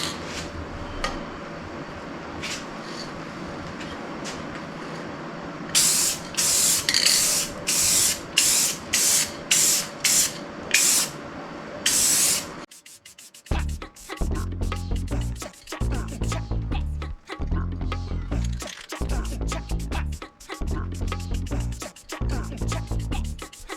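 A warmed spray paint can sprays a Telecaster guitar body, giving a series of short, close, loud hissing bursts. Afterward, rhythmic music with a pulsing beat plays.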